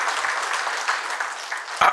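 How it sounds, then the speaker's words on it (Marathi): An audience at a literary gathering breaks into steady, dense clapping that fills the room throughout, close and loud with no talk over it. "आपण हे जोरदार टाळ्या वाजवून जरा ताईंचं अभिनंदन करूया."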